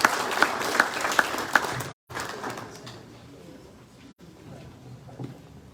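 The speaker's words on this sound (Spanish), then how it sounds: "Lo recibimos con aplausos, por favor." An audience at a disaster-risk seminar for elected authorities claps to welcome a speaker from the National Water Authority, with a few sharp accented claps at first before it drops out, then a quieter, hollow room tone with faint scattered sounds.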